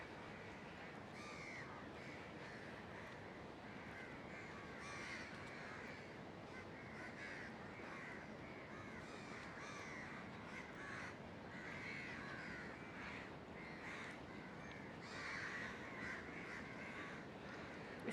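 Many crows caw together from a tree at sunset in Singapore's Marina Bay area, a dense, steady chorus of harsh calls near and far that runs the whole time, with no voices over it.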